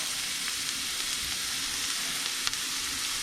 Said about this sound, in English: And we'll get that stir frying, sauteing up.